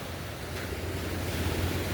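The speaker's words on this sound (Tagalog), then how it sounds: "Yung tunog ng waves." Ocean waves wash in at Ampere Beach as a steady, broad roar of surf, continuous and moderately loud with a slight swell toward the end, mixed with some wind.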